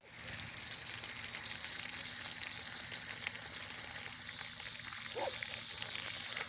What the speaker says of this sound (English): Look at, there's water shooting out of the inside of the ice